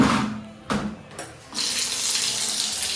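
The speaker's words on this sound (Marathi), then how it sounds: "इकडे पाणी चालू करते कारण पाणी कमी येते मशीनचं" Water gushes from a tap into a sink, starting in short spurts and then running steadily and loudly.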